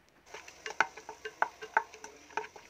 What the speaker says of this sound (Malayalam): എന്നിട്ട് നന്നായിട്ടൊന്ന് വഴറ്റിയെടുക്കാം